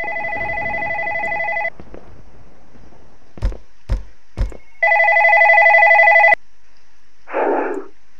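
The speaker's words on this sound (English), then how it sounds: "You know, if you pick that up, it starts ringing." In the indie horror video game One Late Night, an office telephone rings in a loud electronic trill. Three sharp knocks follow, then another long ring and a short muffled tone, all without talk.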